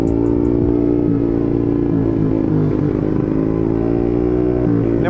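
A Honda Beat ESP 125cc scooter fitted with a Kinoy Empush EM1 round exhaust, engine still cold, revs loudly and steadily up close, its throttle rising and falling with a rough, clattering exhaust note throughout.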